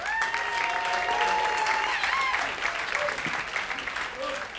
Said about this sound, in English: How about a big round of applause for Jim Foubister?